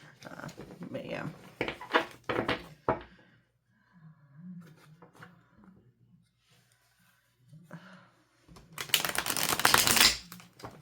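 Tarot cards being riffled and shuffled in crisp bursts of rapid clicking, with quieter handling and faint rustles between them, close by.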